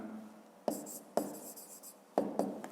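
During a fifth-grade maths exercise, someone writes an answer by hand on paper. A few quiet scratching strokes are punctuated by soft taps in an otherwise hushed room.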